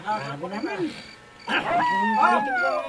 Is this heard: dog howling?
yes